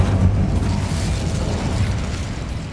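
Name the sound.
Incendio spell being cast in the video game Hogwarts Legacy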